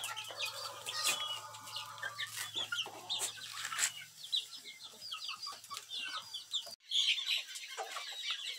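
Hens cluck steadily in a farm stall, several birds calling close by in short overlapping bursts with a brief break near the end.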